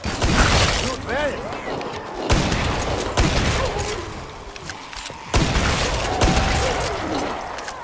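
Heavy gunfire in Killing Floor 2 during a public online match, with dense overlapping volleys and booms that come in bursts with brief breaks. Game voices call out over the shooting.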